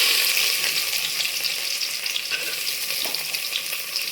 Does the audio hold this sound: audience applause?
no